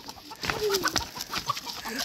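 A farm chicken gives a short run of soft clucks close by, a few quick notes over a low background hum.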